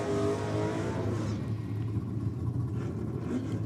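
Drag racing cars, a Ford Capri and a Chevrolet Camaro, at a drag strip event, give a loud, sustained engine roar and deep rumble that gradually fades as the cars pull away, with no voices.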